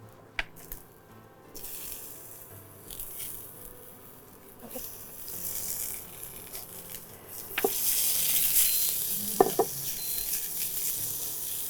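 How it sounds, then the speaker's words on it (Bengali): Tomatoes and mutton frying lightly in ghee for mutton elaichi, a soft continuous sizzle with occasional spoon taps and clinks, growing a little louder toward the end. "যেহেতু ঘিয়ের মধ্যে তুমি একটু হালকা ফ্রাই করে দিচ্ছ"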